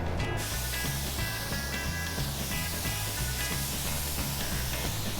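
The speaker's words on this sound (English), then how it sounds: "We're gonna get this all sprayed now." Paint spray gun, freshly fitted with a new seal, sprays steadily onto a car in a shop, a continuous loud hiss running throughout with a low rhythmic hum beneath it.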